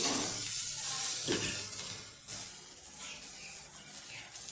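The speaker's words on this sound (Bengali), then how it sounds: "পেঁয়াজ সহ সবজিগুলোকে আমি আবারও কিছু সময়ের জন্য ভালোভাবে ভেজে নিচ্ছি" Chopped onions and vegetables frying in a pan for sooji upma, a steady broadband sizzle at moderate level with a brief stirring scrape near the start, no talk.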